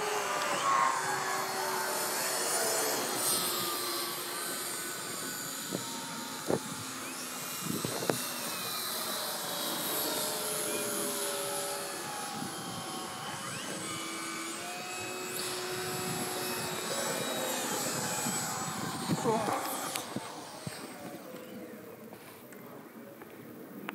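Electric F5J model gliders flying overhead at a 2019 competition in Matko, Hungary, give a steady whining motor drone with shifting pitch that carries through the whole stretch, with no talking.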